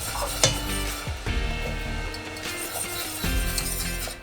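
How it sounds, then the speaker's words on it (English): No-bake peanut butter, chocolate and oatmeal cookie mixture being stirred in a pot, a steady scraping and swishing with faint sizzling and occasional clinks, continuous and close throughout. "you can go ahead and add everything else into this pot, stirring as you go"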